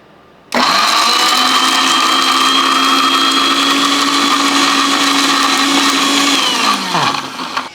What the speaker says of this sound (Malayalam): മാങ്ങായും ഉള്ളിയും കറിവേപ്പില അല്പം ഉപ്പുപൊടി ഇട്ടതിന് ശേഷം ഇത് നമുക്കൊന്ന് അരച്ചെടുക്കാം